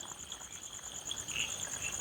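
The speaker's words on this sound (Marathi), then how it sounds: "गर्द पाऊस आणि असे बेडकांचे आवाज" A steady chorus of frogs and insects trills continuously in the background, with a soft wash of heavy monsoon rain underneath, in coastal Konkan.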